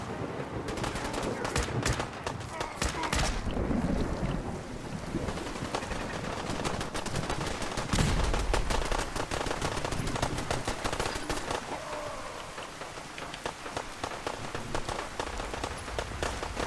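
Rapid automatic gunfire from the Overseer's Guardian rifle in a modded Fallout game, dense bursts of shots running continuously over a noisy, crackling backdrop with some voice mixed in.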